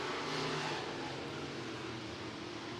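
Sport modified race cars racing on the dirt track at Clay County Fair Speedway, engines droning loudly and steadily at a moderate distance.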